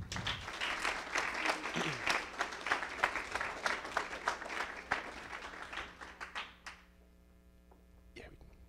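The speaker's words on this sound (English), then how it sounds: "So let's give them one more round of applause." Applause from an audience at an awards results event for a quick pitch competition, dense clapping for several seconds that thins out and stops, leaving room quiet with a brief final clap.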